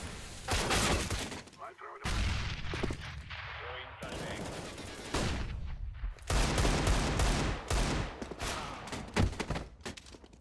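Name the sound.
gunfire in a Counter-Strike video game match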